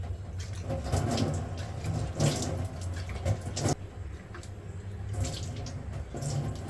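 Water runs steadily from a tap while a face is washed, a continuous close splashing flow that swells in places as hands dip and splash.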